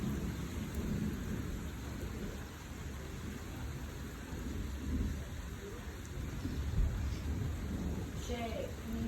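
A huge thunderstorm with a steady wash of rain and low, rolling rumbles of thunder throughout, heard from indoors, fairly faint and even in level.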